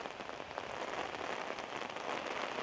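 Rain comes down steadily and fairly heavily outdoors on a street in Vietnam, a dense, even patter across surfaces with no voices over it.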